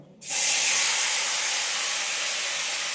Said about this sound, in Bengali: এবার এই ডালটা আমি কড়াইতে ঢেলে দিলাম।